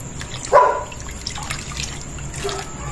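Water, about 1.5 liters, pours into a pot of chicken: a short splashing gush followed by a light, steady trickle and dribble nearby, without speech.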